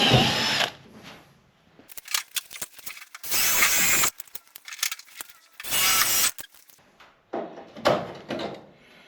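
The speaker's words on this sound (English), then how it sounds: "I'm gonna drill just a couple holes" A power drill bores holes in a car body panel during work on a Chevelle: several loud, close bursts of whining drilling, separated by pauses filled with clicks and handling noise.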